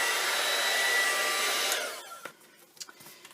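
A dryer blows loud and close to dry inkjet ink on a transparency, a broad steady rush that stops after about two seconds, followed by quiet handling clicks and taps.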